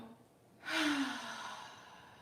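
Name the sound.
guided breathing exhale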